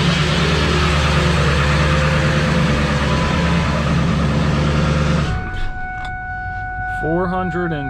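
A high-mileage diesel landscaping truck idles loudly in -2°F cold, a steady heavy drone that cuts off abruptly partway through, leaving a quieter scene with a few short speech-like sounds.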